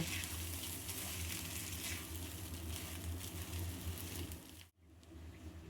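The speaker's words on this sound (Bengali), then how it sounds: "আমি এখন চালটা একটু ভাজা ভাজা করব।" Rice frying in a pot for hilsa egg pilau gives a faint, even sizzle with a low rumble beneath, broken by a brief sharp dropout near the end before the quiet frying resumes.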